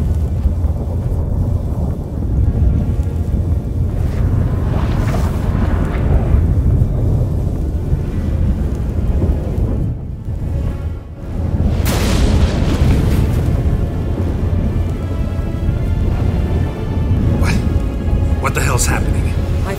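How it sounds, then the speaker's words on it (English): A storm with rumbling thunder rolls through The Witcher 3, heavy low booms and wind-like roar filling the scene, with voices speaking over it. "That a storm?"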